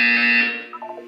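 A single loud harsh buzzer blast in the video game Portal 2, a bright rasping tone holding about half a second then decaying, followed by a few faint electronic blips.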